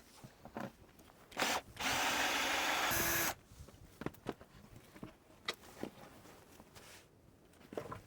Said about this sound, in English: Better go get my screwdriver.